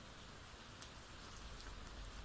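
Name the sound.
rain drumming against windows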